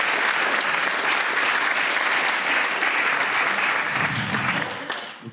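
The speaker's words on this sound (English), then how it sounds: "huge round of applause for Steve" A live comedy audience gives a guest a steady, loud round of applause that fills the room, then thins and trails off near the end.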